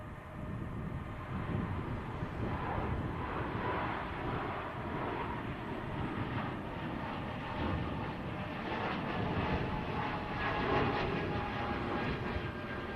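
An Air France airliner at Manchester Airport, its jet engines giving a steady, moderately distant roar that swells slightly toward the end, without voices.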